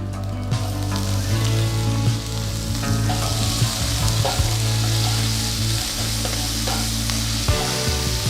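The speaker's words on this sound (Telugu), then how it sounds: "కొద్దిగా వెల్లుల్లి బాగా సన్నగా తరిగి వేస్తున్నాను దీంతో పాటు ఒక మీడియం సైజ్ ఉల్లిపాయని బాగా సన్నగా తరిగి ఇది కూడా వేస్తున్నాను" Finely chopped garlic and a medium onion sizzle steadily in hot oil, a loud, continuous frying hiss with occasional stirring scrapes, close up and alone without talk.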